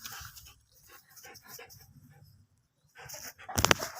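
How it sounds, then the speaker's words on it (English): A dog panting and whimpering somewhere in a Kenya setting, with soft breathy pants in short bursts, a quiet gap, then louder whines and rustling near the end. No speech. "that's my dog, Dutch"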